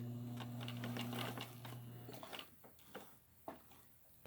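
Brother SE600 embroidery machine stitching a quilt, a fast, soft mechanical rattle with a steady hum that stops partway, leaving a few faint clicks and handling knocks.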